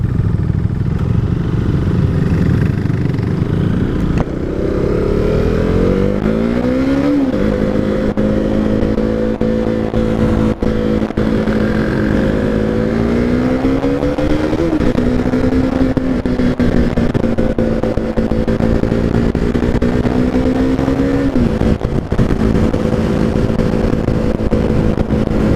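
A KTM 390 Duke single-cylinder motorcycle engine revs loudly and close, climbing in pitch through several rising sweeps that drop back between gears, with no talking.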